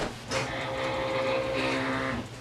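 A craft cutting machine slices a glitter foam sheet on two passes, giving a steady mechanical whir with a motor tone that holds for about two seconds and shifts pitch partway through, close and alone.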